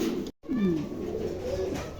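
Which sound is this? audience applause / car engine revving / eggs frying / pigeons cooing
pigeons cooing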